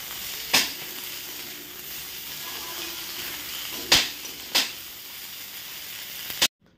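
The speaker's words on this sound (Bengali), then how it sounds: "তারপর এটা তেলের উপরে দিয়ে একটু ভাজা করে নেবো।" Cauliflower frying in oil, a steady soft hiss of sizzling throughout, broken by three or four sharp clicks or clatters, with no one talking.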